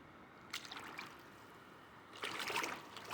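Water trickling and splashing off a sea cucumber as it is lifted out of the sea, two short, hissy bursts of dribbling water, close and fairly faint, with no talk.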